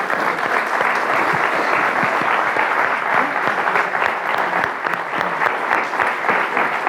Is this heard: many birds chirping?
no